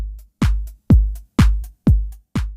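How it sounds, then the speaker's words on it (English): Drum machine hits with their pitch swept by an LFO, five punchy strokes that sink from high to low, each trailed by a faint tick, in a steady, close rhythm. "that's what's causing the dipping in and out effect that you can hear, making the hi-hat swirl up and down in pitch"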